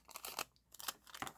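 Scissors cutting through waxed paper produce a quick series of close, crisp snipping and crinkling sounds with a brief pause partway through, quiet and with no talk.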